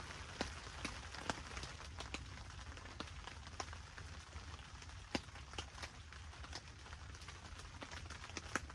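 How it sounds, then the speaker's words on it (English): Steady rain patters on a hot tent at a winter camp on a frozen lake island, a soft continuous hiss dotted with sharper individual drop taps, fairly faint and with no one talking. "Hopefully it'll quit raining."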